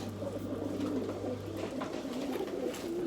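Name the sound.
pigeons cooing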